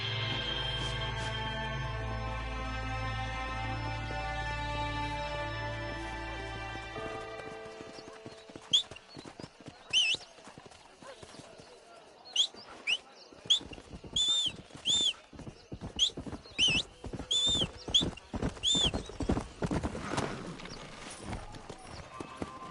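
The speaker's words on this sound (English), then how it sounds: "This steed looks right fetchy" Horse hooves clip-clop in the Red Dead Redemption video game, a run of sharp, uneven clopping beats in the second half. A low rumbling tone and voices come before it.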